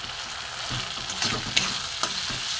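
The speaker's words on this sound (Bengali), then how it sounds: "একটু ভালো করে কষিয়ে নিই।" Cabbage paneer with spices fries in a pan, a steady close sizzle with occasional stirring scrapes and small pops, no talking.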